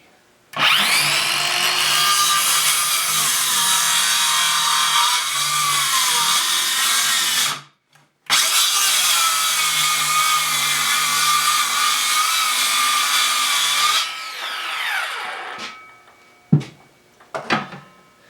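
A Ryobi brushless saw running on a standard 4 amp-hour battery cuts through wood in two long, loud passes separated by a brief gap, then winds down with a few short bursts at the end.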